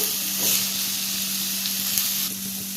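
Onions sauté in a pan with salt added for a Tamil karamani kara kulambu, giving a steady, close sizzle with soft hissing and occasional stirring scrapes throughout.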